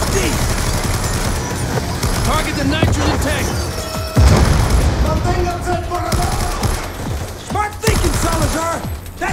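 Gunfire keeps rattling through a Call of Duty: Black Ops 2 firefight on hard difficulty. A heavy boom and crash come near the middle as a nitrogen tank explodes, with shouted voices and more shots continuing under the din.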